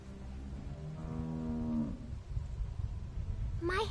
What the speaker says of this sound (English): How do you like that cow, Clem?